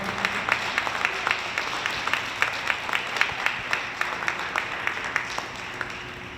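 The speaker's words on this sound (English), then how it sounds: "Give a round of applause for Duke's Barbecue Restaurant." An audience at a community awards ceremony in Norristown claps for a nominated barbecue restaurant, a moderate run of scattered individual hand claps that holds steady for several seconds.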